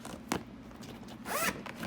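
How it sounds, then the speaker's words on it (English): A zipper on the insulated upper door of a Polaris General XP UTV is pulled open in two quick, close, scratchy runs with a pause between them, no talking. "They zipper out the same,"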